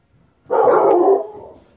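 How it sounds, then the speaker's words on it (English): A dog gives a single loud, close bark, one short burst following near silence. "Oh, my dog's a barking."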